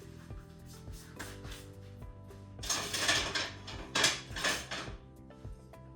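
Kitchen utensils clatter and clink as someone rummages for a ladle, giving light metallic taps and scrapes that build into louder jangling bursts near the middle, close by with no talking.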